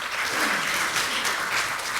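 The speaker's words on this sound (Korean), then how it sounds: "다시 한번 힘찬 박수로" Vigorous audience applause at a Democratic Party ceremony marking the 20th anniversary of the June 15 inter-Korean joint declaration, a continuous, even wash of clapping across the hall with no break.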